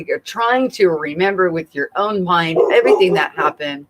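Dogs bark indoors in the background while a person keeps talking over them, the yips and woofs mixed under the steady speech.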